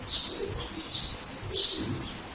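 Soft, low cooing calls repeat a few times, mixed with higher chirps from birds nearby, with no talking.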